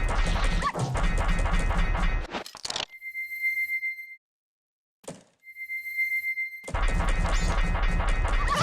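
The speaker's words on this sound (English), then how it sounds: "dogs attack me on sight" Dogs barking and snarling in a Zelda video game, loud bursts at the start and end with a quiet gap and a faint electronic tone between.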